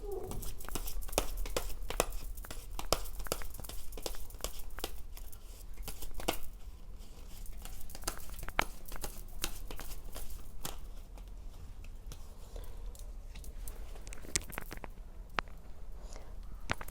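Tarot cards being handled, shuffled and laid out, a steady close stream of papery flicks and rustles with frequent soft taps, continuing for a long stretch with a voice speaking at moments.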